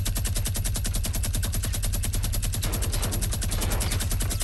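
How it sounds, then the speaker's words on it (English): Minigun in Fortnite Battle Royale firing a long, unbroken burst of very rapid shots, loud and close, rattling steadily for the whole stretch with no voices. "Nothing to lose with the minigun."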